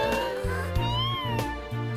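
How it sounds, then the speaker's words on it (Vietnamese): A cartoon cat meows several times over a busy animated soundtrack with music, the cries clear and up close. "Trời ơi, sao có con mèo nó ở đây?"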